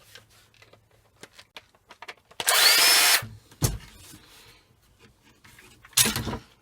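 Power tool driving out two screws holding the body of a faulty hover mower, in two loud bursts of whirring, a longer one then a short one, with quieter clicks and handling sounds between them.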